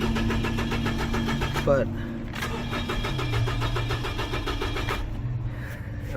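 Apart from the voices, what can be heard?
2007 Nissan Frontier engine cranking but not starting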